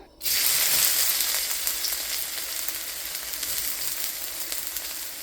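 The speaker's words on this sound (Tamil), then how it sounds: "இப்போ சட்டி சூடாகிட்டு நான் இப்போ கொஞ்சம் வெங்காயம் சேர்க்குறேன்" Onions frying in a hot pan for mutton koththu rotti, a loud steady sizzle that bursts in as they hit the oil and then holds with a dense crackle, no voices.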